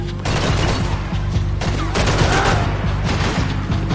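Automatic rifle fire from Max Payne 3 rattles in loud, rapid bursts of repeated shots, continuous for several seconds and dominating the mix.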